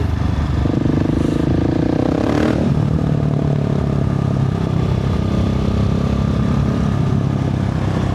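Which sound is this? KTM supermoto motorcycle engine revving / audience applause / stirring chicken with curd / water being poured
KTM supermoto motorcycle engine revving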